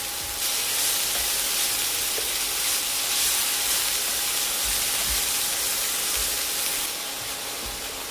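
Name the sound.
spinach leaves frying in a pan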